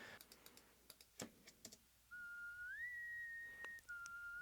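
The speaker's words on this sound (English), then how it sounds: "So that is her whistling." A woman whistles a clear, sustained melody line, sliding up and holding notes, faint and intimate, after a run of soft tapping and clicking sounds like keyboard typing.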